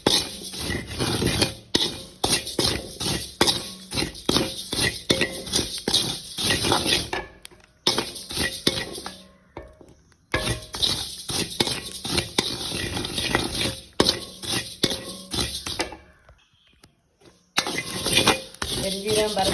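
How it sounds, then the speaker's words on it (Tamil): Fennel seeds dry roast in a pan, stirred over and over with a utensil that scrapes and clinks against the metal in quick rhythmic bursts, close and fairly loud, with short pauses between rounds of stirring. "நாங்கள் பெருஞ்சீரத்தை வறுத்து போகிறோம்"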